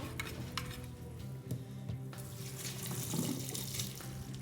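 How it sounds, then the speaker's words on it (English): Olive mixture being stirred into a Napoli pasta sauce in a pan, a steady wet stirring and soft sizzle with faint clinks, continuous and close, no talk. "our mixture of olives. Stir this all in"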